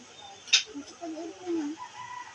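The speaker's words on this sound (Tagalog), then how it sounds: "Tilaok! Mm. Oh! Sabi ng manok!" A rooster crows faintly in the distance, its drawn-out call rising and falling, after a brief sharp click.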